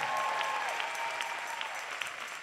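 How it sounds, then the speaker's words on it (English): Audience applause after three bands at a concert, a dense, steady clapping from a crowd at moderate distance, sustained throughout with no talk. "And I want you to really now already give the three bands a wonderful round of applause."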